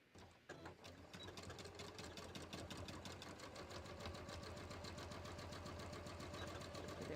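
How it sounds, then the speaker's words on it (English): A sewing machine stitching the short edges of a shirt collar at a half-inch seam allowance, starting abruptly and running at a steady, rapid mechanical rhythm close by and quietly, with no talking. "I'm sewing them at a 1/2 inch seam allowance because that's what I added."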